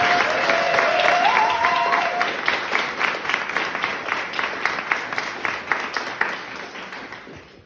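Audience applause at a live show, a dense, steady wash of many hands clapping that gradually thins and fades toward the end, with a brief whistle near the start.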